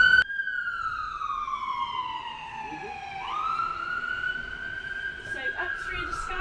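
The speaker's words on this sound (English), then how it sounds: "Allow for the sirens." A siren wails nearby on a rainy day in Oxford, heard from a tour bus, its pitch sliding down then sweeping back up, over a low background hum with traffic noise.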